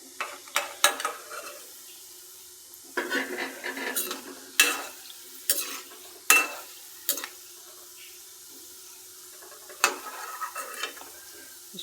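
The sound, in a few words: gulab jamun frying in a pan on low flame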